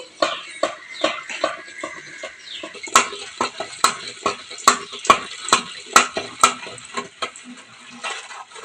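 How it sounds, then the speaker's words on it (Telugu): Cooked lentils (dal) for a village-style drumstick lentil soup being mashed with a hand masher in a pot, a steady series of sharp, close knocking and squelching strokes in an irregular rhythm, with no talking. "ఇప్పుడు పప్పు రుబ్బుకుందామండి"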